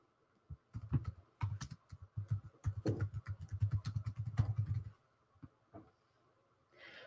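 Fast, steady typing on a computer keyboard, close and fairly quiet, clattering continuously for several seconds before a few isolated key presses and a pause.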